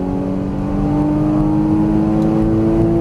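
Porsche Cayman GTS engine accelerating on a Las Vegas racing track, a loud close steady drone with rising pitch heard from inside the car, no talk.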